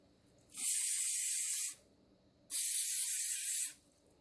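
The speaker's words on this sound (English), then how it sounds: "I'm gonna spray down here on this little tassel" Two close, loud bursts of Carbon Pro protector spray hissing onto the tassel of a Louis Vuitton Neverfull bag, each lasting about a second with a short pause between, no voices.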